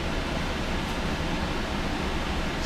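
Air conditioning blowing inside a truck cab in the UK on a warm 29-degree afternoon, a steady close broadband rush of air that stays even throughout, with no voices.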